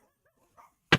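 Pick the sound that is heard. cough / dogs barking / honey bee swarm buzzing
dogs barking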